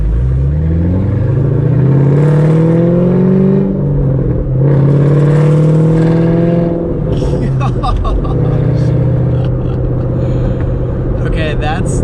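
Shelby GT500 with a Corsa Extreme exhaust revving hard in repeated long pulls, the deep growl rising and falling loud and close, with a burbling idle between bursts.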